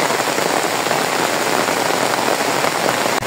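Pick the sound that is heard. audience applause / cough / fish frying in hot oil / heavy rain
heavy rain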